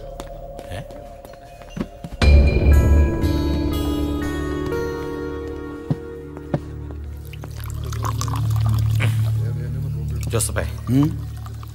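A man urinating, heard as a liquid pouring stream that starts suddenly and runs on steadily with shifting pitch, under and between voices talking, with a few knocks at the end.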